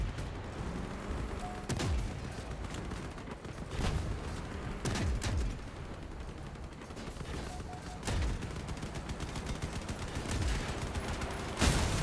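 Cannon fire in the vehicle combat game Crossout: several sharp, loud blasts spaced across a busy battle, set against steady engine and mechanical background noise.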